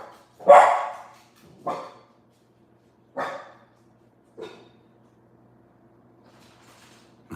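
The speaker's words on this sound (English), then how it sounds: "I don't know what that dog is doing." A dog barks four times in separate, spaced bursts, the first loudest and the rest fading slightly, each standing alone against a quiet background with a faint low hum.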